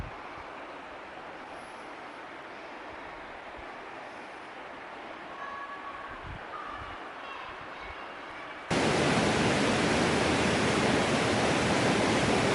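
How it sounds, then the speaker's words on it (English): A stream and waterfall on the North River roar as a steady broad rush, softer at first and then suddenly much louder and closer partway through, with no talking. "it starts with a waterfall, and you just follow the waterfall all the time"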